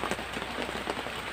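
Steady rain drumming on a tarp roof in a makeshift shelter, a dense, loud, continuous patter of drops with no talking.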